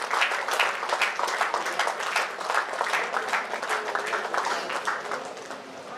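Sustained applause from an audience at a Central Railway Vigilance Awareness Week award ceremony, dense steady clapping filling the whole stretch without pause and tapering only slightly at the end.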